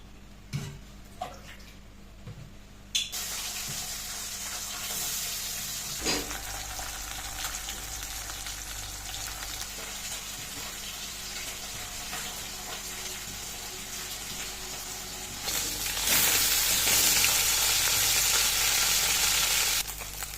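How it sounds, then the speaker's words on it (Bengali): A steady hiss of fish frying in hot oil in a wok fills the clip, growing louder toward the end, after a few clatters at the start. "কড়াইতে আমার তেলটা গরম হয়ে গেছে, এবার মাছগুলো ভাজা করব"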